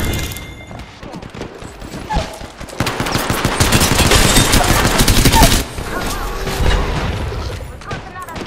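Rapid automatic gunfire in the battle-royale shooter Apex Legends, dense overlapping bursts and booms that swell to a loud sustained barrage, then ease off into scattered shots and mechanical clicks.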